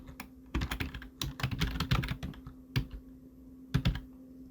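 Several crisp keystrokes on a computer keyboard in irregular bursts, including Enter presses while typing in Photoshop, close and fairly quiet with short pauses between clusters.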